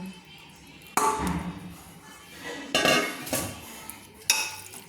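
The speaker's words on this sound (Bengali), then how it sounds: "তারপর এটা আমি প্রেসার কুকারে ঢেলে দিচ্ছি সিটি দেওয়ার জন্য" Marinated chicken tipped into a pressure cooker: metal clanks of utensil against the pot in a few bursts, with scraping and soft thuds between, close and moderately loud.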